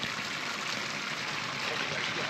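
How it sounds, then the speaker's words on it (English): A pretty waterfall cascades down into a creek, giving a steady broadband rush of flowing water that holds at an even, close level throughout with no voices. "Really pretty waterfall. Cascade, really."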